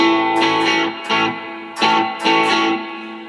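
Electric guitar on the bridge pickup played through an Amplitube 5 amp simulation with its built-in reverb set to 2.5: a few repeated strummed chords with a rhythmic attack, slightly driven tone and ambient wash, no voices.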